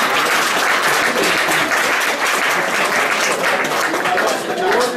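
A crowd at a Rome 2014 annual general meeting applauds loudly and steadily, with dense clapping that holds for several seconds without a break.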